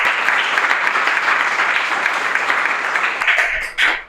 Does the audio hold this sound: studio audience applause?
yes